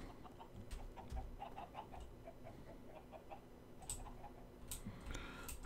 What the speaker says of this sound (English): I hear the chickens, but I don't see the chickens.